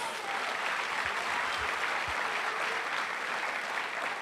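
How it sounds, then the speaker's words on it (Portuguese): A church congregation claps together in a steady, dense round of applause, even and sustained throughout, with no voices rising above it. "Aplauda o Senhor Jesus"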